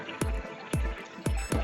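Water spilling from a makeshift float into a garden pond, heard as repeated heavy splashing gushes in an uneven rhythm, close and fairly loud, no talk.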